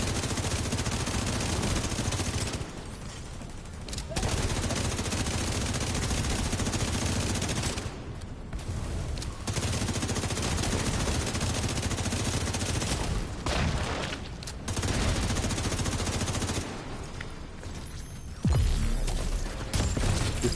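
Nearly continuous automatic gunfire in The Division 2, loud and close, broken by a few short pauses, with one heavy burst near the end.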